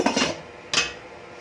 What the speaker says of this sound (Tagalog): So, ngayon po ay takpan po muna natin.